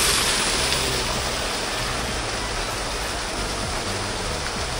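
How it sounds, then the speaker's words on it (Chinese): The waterfall at Huangling in Wuyuan pours nearby in a loud, steady broadband roar that continues without a break, with no one talking. "这站在瀑布旁边，好凉快，"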